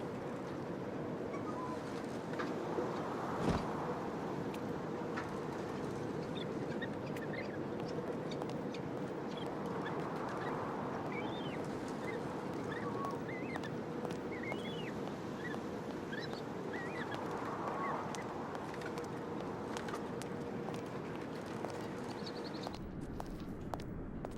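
In the video game Syberia 3, a large bird honks in short repeated calls over a steady low droning hum, the honks moderately close and spaced a few seconds apart.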